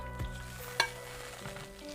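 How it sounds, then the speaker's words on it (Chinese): Pan-fried mackerel slides into a hot iron wok with chili bean paste, aromatics and water, giving a sharp bubbling sizzle and a single loud clatter, no voices. "煎好的马鲛鱼下锅"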